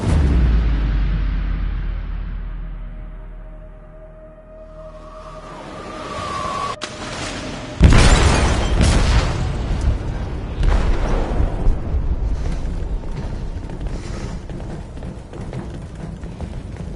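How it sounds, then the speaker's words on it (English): An explosive detonates in a ship's hold in the video game Detroit: a low rumble gives way to a sudden, loud, broad blast midway, followed by sustained roaring and rumbling as the ship sinks. "They detonated an explosive in the hold."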